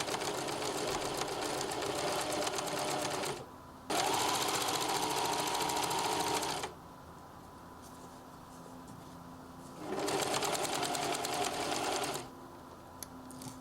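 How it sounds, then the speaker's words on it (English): A domestic sewing machine runs a triple stitch around a knit raglan dress, whirring loudly in two long bursts with a quiet pause between them and after, and no talking. "Back to the sewing machine, triple stitch."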